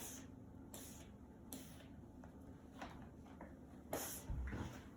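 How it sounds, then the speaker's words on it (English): Three quick hissing sprays from a spray bottle onto a coffee filter, close and quiet, separated by soft handling noises in a hushed room. "Just spray it lightly. Spray it all over."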